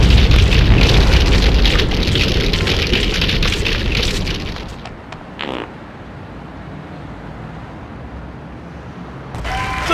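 Rocket launcher blasts in the game GTA2 play as dense, loud, rumbling explosions that run together for several seconds, then fade to a quieter background with a few brief later bursts.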